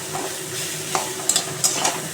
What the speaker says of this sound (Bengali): এই কালো জিরে কাঁচা লঙ্কা দিয়ে একটু ভাজা করে নেব